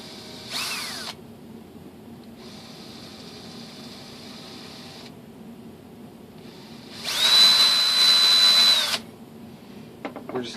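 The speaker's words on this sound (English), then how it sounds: "I'm going to take my drill" A power drill bores screw holes into a composite glider's elevator control surface, whining in two short high-pitched bursts and one longer burst, with quiet pauses and faint handling noises between.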